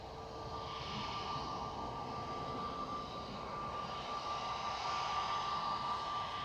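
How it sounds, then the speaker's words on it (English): Aircraft 2EJ taxiing out at Manchester Airport for Bridgetown, heard as a steady distant jet engine drone with a high whine, constant and unbroken, with no voices. "2EJ's taxiing out to go to Bridgetown."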